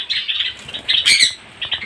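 Five golden finches squawk in a cage, close and loud, giving a string of sharp, raspy calls in quick bursts with a brief flurry of overlapping cries midway.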